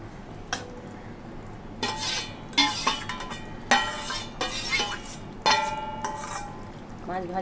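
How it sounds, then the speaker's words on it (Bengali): A spatula scrapes and clinks against a pan as pomfret fish curry is gently stirred, several separate bursts of metallic scraping over a low background hiss. "মাছগুলো দেওয়ার পরে হালকাভাবে নাড়াচাড়া করে দিতে হবে।"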